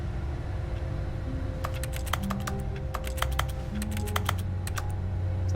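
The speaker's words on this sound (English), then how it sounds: "Sounds like he's typing." Rapid clicky keystrokes on a computer keyboard in The Stanley Parable: Ultra Deluxe, a close burst of uneven typing over a steady low background hum and soft music tones.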